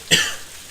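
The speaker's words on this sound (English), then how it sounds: "And then I started coughing, and that was fun." A single short cough, close and fairly loud, trailing off into quiet.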